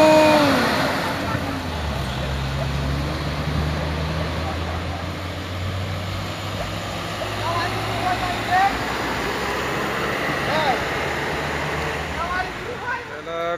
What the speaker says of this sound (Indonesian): Trailer Hino langsung nyalip si Puso bosku